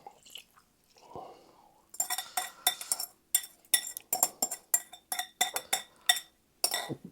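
Shredded cabbage for a mayo-free slaw tossed and mixed in a bowl, giving close, irregular bursts of wet, crunchy rustling and light clinks against the bowl, with a quiet pause before the steady mixing begins.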